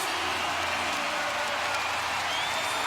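Broad crowd noise fills a basketball arena during a Toronto Raptors vs Cleveland Cavaliers NBA game, a steady wash of cheering and clapping at moderate distance without pause.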